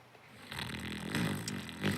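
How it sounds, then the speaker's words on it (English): A person snores with low, rasping breaths, swelling into a couple of louder snorting pulls, close by. "decided to snore during this question."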